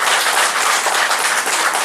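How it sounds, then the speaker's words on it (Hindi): Workshop audience breaks into steady, dense applause, a continuous wash of many hands clapping at close range with no voices over it. "इसलिए मैं चाहूँगा आप सभी एक करताली के साथ श्री बद्री यादव का स्वागत कीजिए"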